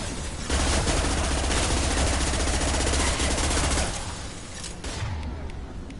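Sustained automatic gunfire in the Mass Effect 2 shooter, a loud dense rattle of rapid shots for several seconds, then easing into scattered bursts and ambient combat noise.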